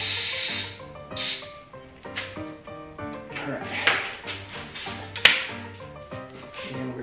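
Air hisses into a mountain bike tire during inflation on a 2018 Santa Cruz 5010 build, coming in several bursts of hissing spray between quieter gaps, close and fairly faint.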